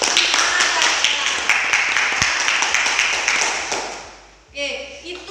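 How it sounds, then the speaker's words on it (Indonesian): Classroom applause for students Hikmah and Ella during a physics lesson, a dense run of close, quick claps that fades after about four seconds, followed by a brief voice. "Tepuk tangan untuk Hikmah dan Ella."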